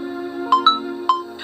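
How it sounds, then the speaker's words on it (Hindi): A mobile phone ringtone chimes at night, a few bright electronic tones repeating in a short pattern over a steady hum, alone without voices. "फोन बज उठा"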